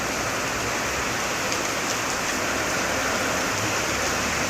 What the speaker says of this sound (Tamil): இந்த குளச்சலில் மழை பயங்கரமாக மழை பெய்யுது